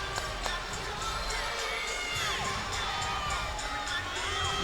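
Crowd cheering and shouting at a college gymnastics meet, New Hampshire at LSU, a dense, continuous wall of voices and whoops from a large arena audience, sustained and loud throughout with scattered higher shouts.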